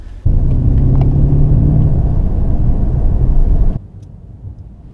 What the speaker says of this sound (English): This is the petrol engine, V8.